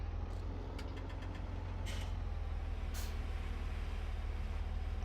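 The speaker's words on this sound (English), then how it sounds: "This is a Fendt baler being pulled by a Massey tractor." Massey tractor engine pulling a Fendt baler in Farming Simulator 17, a steady low droning engine hum with a constant rumble, joined by a few brief hissing bursts, alone without talk.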